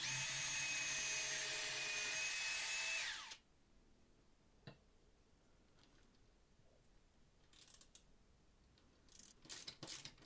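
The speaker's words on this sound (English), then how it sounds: "I can make a mark with an awl and then drill a pilot hole" A power drill whines at high speed for about three seconds drilling a pilot hole in scrap metal bar, then cuts off, leaving quiet with a few faint knocks and scrapes.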